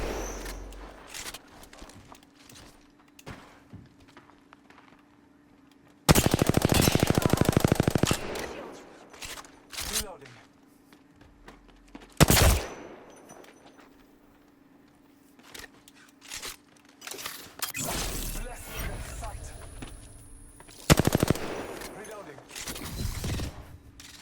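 Automatic weapon fire in the video game Apex Legends comes in several loud sustained bursts, with shorter single shots and footsteps between them and a player talking over the action.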